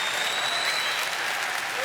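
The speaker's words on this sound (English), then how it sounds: "Hold for bigger applause. Bigger applause." Audience applause at the 2017 ESPYs awards show, a dense, sustained burst of clapping from a large crowd filling the hall, loud and continuous with no talk over it.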